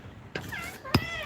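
Pet cat meowing indoors, two short mews close by, mixed with low background sound.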